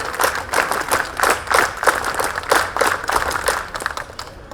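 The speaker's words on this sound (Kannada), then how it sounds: "ಮತ್ತೊಮ್ಮೆ ಎಲ್ಲರೂ ಜೋರ ಚಪ್ಪಾಳೆ ತಟ್ಟಣ್ವಾ" An audience at an annual day celebration applauds steadily, a dense crowd of hand claps sustained at an even loudness before trailing off slightly at the end.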